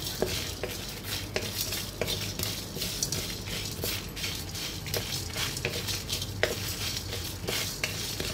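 Cardamom, a torn bay leaf and other whole spices stirred as they dry-roast on low heat in a pan, giving a steady scraping and light rattling with regular spoon strokes against the metal, close and continuous.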